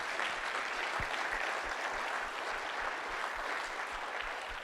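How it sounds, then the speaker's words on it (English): Sustained audience applause fills a college crop technology final presentation hall, a steady dense wash of clapping that holds evenly throughout without voices on top. "Big round of applause for all of you."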